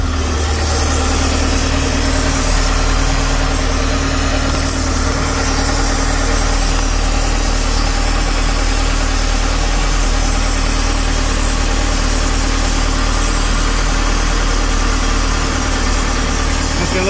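The engine of a 2012 Larson LX850 boat idles at about 1,000 RPM after nearly eight months in storage, a steady loud low drone with constant vibration and no break.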